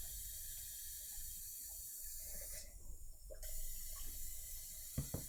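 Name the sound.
paintbrush being rinsed with water under a tap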